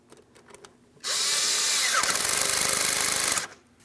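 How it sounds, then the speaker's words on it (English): A power tool runs on a 7mm-headed clamp securing the intake tube to the throttle body of a 2015–2025 Ford Transit 250, a loud steady whir lasting about two and a half seconds with a rattling ratchet texture, starting and stopping abruptly. "I'm going to tighten my 7mm headed clamp."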